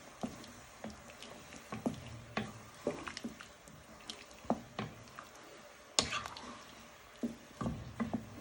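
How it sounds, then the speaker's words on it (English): A wooden spoon stirs a pot of scouse stew with crumbled stock cube, giving soft, irregular wet squishes and clacks at close range, repeating in an uneven rhythm with a sharper knock partway through. "then you want to give it a good stir with using your wooden spoon"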